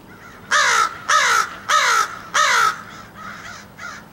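A big gathering of crows flies overhead, giving four loud harsh caws in a row followed by fainter, more distant calls against a quiet outdoor background.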